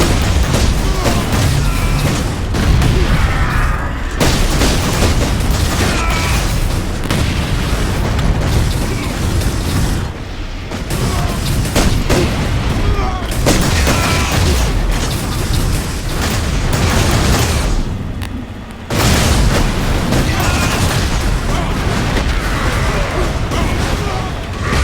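Laser cannon fire and enemy death cries in a Warhammer-style action game fill the scene with dense, loud booms and bursts that repeat almost constantly, with brief gaps and a voice talking over the chaos.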